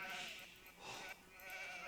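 Sheep and goats bleat in Age of Empires II, a few soft, drawn-out calls that rise and fall one after another, faint and without talk.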